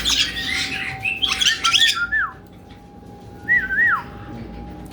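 A parrot whistles and chirps in bright, looping bursts, close by, with short pauses between phrases and a faint steady hum underneath.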